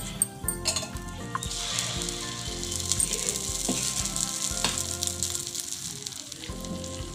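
Amboli rice batter sizzling on an oiled pan, a steady close crackle with occasional clinks of utensils against the pan, no talking.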